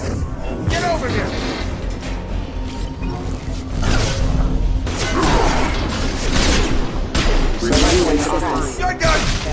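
Gunfire and shotgun blasts in the Mass Effect video game during a fight with mechs on a collapsing station, a dense, continuous barrage of shots, crashes and clatter with voices shouting over the action.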